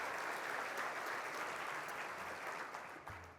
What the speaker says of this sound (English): So let's give our Olympians and Paralympic athletes a round of applause.